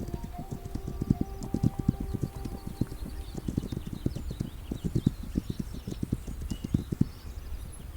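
Horse hooves clip-clop in the survival game This Land is my Land, a steady run of close, crisp hoof strikes at a brisk walking rhythm lasting about eight seconds.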